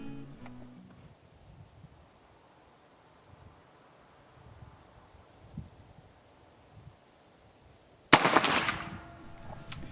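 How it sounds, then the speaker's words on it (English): An AEA Zeus .72 caliber air rifle with a 16-inch barrel fires one sharp, loud outdoor shot near the end, after a long stretch of faint wind and rustling. "I set up the AEA Zeus to check zero."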